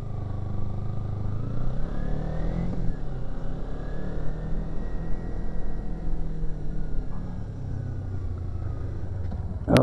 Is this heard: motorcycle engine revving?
yes